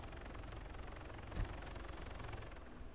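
A Mohawk helicopter's engine and rotors in the video game Arma 3 drone steadily and loudly, with a brief thump partway through and no voices.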